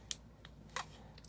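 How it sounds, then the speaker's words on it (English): Scissors trim paper for a small inch-square collage piece, giving a few quiet, crisp snips spaced unevenly over a soft room hush. "glue it down, and then just"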